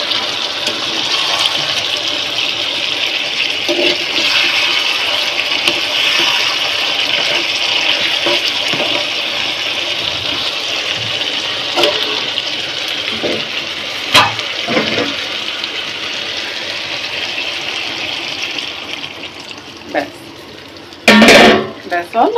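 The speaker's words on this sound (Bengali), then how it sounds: "এখন কিন্তু ঝোল দিয়েছি" Broth poured into a hot cooking pan gives a steady, close rushing hiss that runs for about twenty seconds, with a few soft knocks along the way and a sharp metal clatter near the end.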